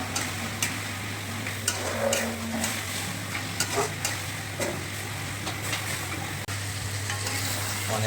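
Masala sautéing in a pan for a desi curry, a quiet steady sizzle with a low hum beneath and irregular soft scrapes and taps as a spoon stirs it, no voices.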